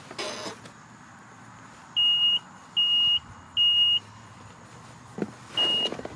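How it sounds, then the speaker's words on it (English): Electronic safety alarm beeps from a Ryobi RM480EX electric riding mower sound three times in an even rhythm, then once more after a short rustle and clunk, fairly loud over a quiet engine hum. "There's also a safety feature in case you leave the key in and leave the seat."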